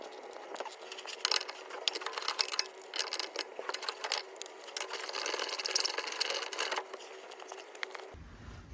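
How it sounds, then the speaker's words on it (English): A ratchet working on the 17 mm caliper mounting bracket bolts of a 2016-2021 Honda Civic, a rapid, close metallic clicking that runs steadily for several seconds before stopping abruptly. "we'll use a breaker bar followed by a ratchet"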